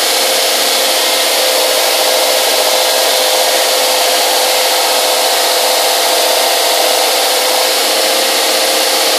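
A loud, steady Jet woodworking power tool roars continuously with a harsh broadband whine, like a sander or saw running close by without pause.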